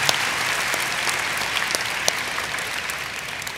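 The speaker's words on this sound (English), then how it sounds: "So can we get a round of applause for the people who help us?" A crowd at Minecon 2013 applauding steadily, a dense patter of many hands clapping throughout at moderate distance.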